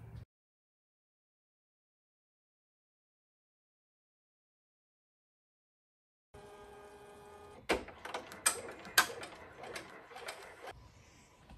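An embroidery machine stitches a pot holder in the hoop, starting after a long silence with a steady mechanical whir and a string of sharp rhythmic clacks as the needle tacks fabric down.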